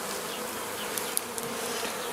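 Honey bees drone in a steady, dense buzz during a routine hive inspection in early spring, with a few faint clicks and taps of handling over the constant swarm hum.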